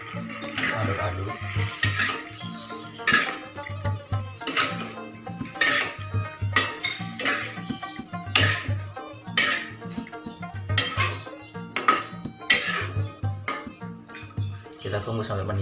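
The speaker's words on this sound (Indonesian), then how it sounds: "Aduk-aduk." A metal utensil scrapes and clinks against a wok while food is stirred, with repeated rhythmic clatters and sizzling, wet kitchen sounds over about fifteen seconds, fairly close, with a voice talking at times.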